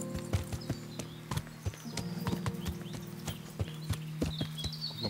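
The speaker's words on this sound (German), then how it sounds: "Ich werde mal ein bisschen abseits vom Weg reiten. Galoppieren." Horse hooves gallop in the video game Kingdom Come: Deliverance, a fast, steady clatter of hoofbeats close up as the rider heads off the path, with no talk over it.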